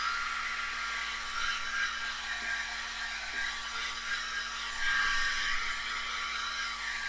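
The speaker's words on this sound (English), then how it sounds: "hot air gun to blow it and dry it" A hot air gun blows steadily over watercolour paint to dry it, a continuous whooshing fan hiss with a faint motor whine, close and unbroken throughout.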